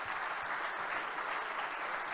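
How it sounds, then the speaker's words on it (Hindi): A panel-discussion audience gives a brief, distant wash of applause, many hands blending into an even, soft hiss with no single claps standing out. "तालियाँ तो बनती हैं इस बात पे एकदम."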